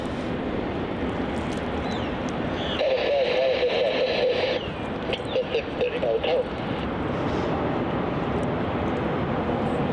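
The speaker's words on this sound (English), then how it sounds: "Departing off runway 34 now, we have Air India flight AI" Departing airliner, an Air India flight heading for Delhi, climbing off runway 34 at Melbourne Airport, Australia, a steady broad engine roar under continuous commentary and radio chatter, with a brief tonal whine rising mid-way.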